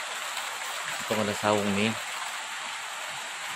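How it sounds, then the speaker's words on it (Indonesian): Steady rain falls outdoors as a constant broadband hiss, with someone speaking briefly over it. "Hujan turun lagi."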